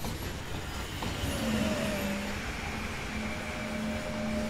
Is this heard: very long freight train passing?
yes